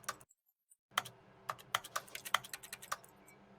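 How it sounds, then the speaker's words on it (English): Keyboard clicks from the video game The Stanley Parable: about a dozen sharp, close taps in an irregular typing rhythm after a brief moment of silence. "it sounds like I'm clicking the keyboard."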